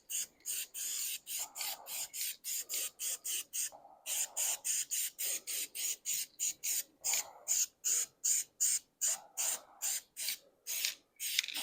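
Spray primer hissing onto an engine in a long string of short regular bursts separated by brief pauses, close and steady throughout.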